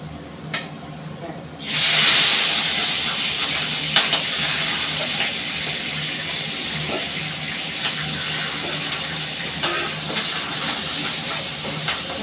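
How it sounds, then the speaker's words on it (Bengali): Prawns dropped into hot oil in a home kitchen, bursting into a loud hiss that settles into a steady sizzle with scattered crackles and pops. "এদিকে আমার তেল গরম হয়ে গেছে, এর মধ্যে আমি চিংড়ি মাছটা দিয়ে দিচ্ছি।"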